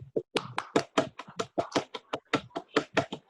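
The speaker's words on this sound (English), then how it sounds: "can we have a round of applause for the participants and winners of" Scattered clapping from a small group at a model UN closing ceremony, honouring participants and winners: distinct, uneven claps close by, fairly loud, with no voices over them.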